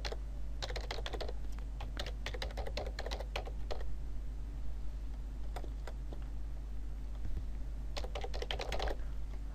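Rapid bursts of typing on a computer keyboard, entering names into diagram software; clustered keystrokes with pauses between bursts over a steady hum, close and clear, no talking.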